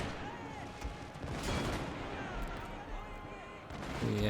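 Musket volleys crackle and pop in a Shogun 2 Total War battle, a dense mid-distance spread of gunfire layered over a continuous battlefield din, with talk over it.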